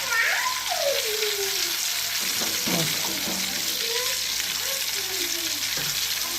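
Oil bubbles and sizzles loudly and steadily as potato wafers fry, with a voice talking faintly over the crackling.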